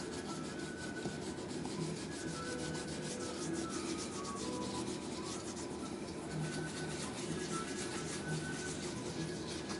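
A cloth is rubbed in small circles over a Church's leather shoe while polishing it, making a close, continuous soft scrubbing with a quick, even rhythm and no talk.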